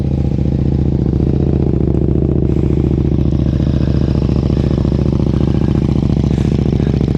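A KTM RC8 V-twin sport motorcycle with a Jester exhaust idles loudly and close on a cold start, a steady, throbbing low rumble with a fast, even pulse that never changes pace.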